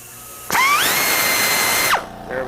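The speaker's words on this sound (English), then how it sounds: "the drill bit did not want to go through. I got another one here. There we go. That one went well." A power drill spins up sharply and bores a hole in a Honda transmission part, whining at a steady high pitch for about a second and a half before winding down, close and loud with no talk.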